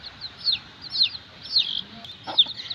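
Chicks cluck repeatedly in short bursts at a close distance, with a steady low murmur of background noise underneath.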